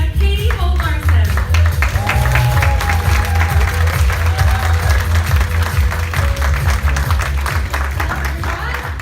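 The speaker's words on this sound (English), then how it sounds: "give a warm round of applause for President of North America, Katie Holt-Larson" A crowd at a Jeunesse event in Orlando applauds and cheers, welcoming a speaker, the president of North America, to the stage; the loud, dense clapping runs for the full stretch over a steady low backing, likely music.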